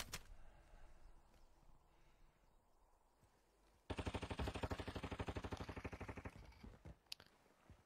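Video game gunfire, a fast rapid-fire burst of shots following a quieter stretch of faint game ambience, loud and close with no talking.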